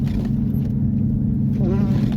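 A 2016 Ford Mustang GT on Blizzak WS90 tires drives a snow-covered road, a steady low engine and road rumble from inside the car with a voice speaking briefly.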